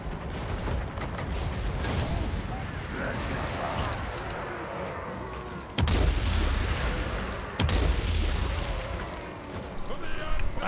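Artillery fire in the fantasy battle game Total War: Warhammer 2, a dense wash of rumbling battle noise with two sharp, loud booms landing a couple of seconds apart, while a voice talks over the din.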